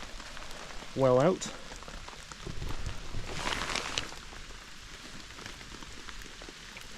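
Rain falls at a woodland camp with a soft, steady patter on nearby surfaces, quiet and distant, broken by a brief high chirp early on and a murmured voice.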